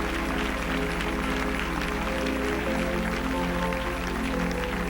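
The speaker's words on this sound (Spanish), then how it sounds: "Dale un aplauso al Señor con todo tu corazón." A church congregation applauds during a Spanish-language worship service, a dense, steady wash of clapping that holds at an even, loud level throughout, layered over a constant low electrical hum.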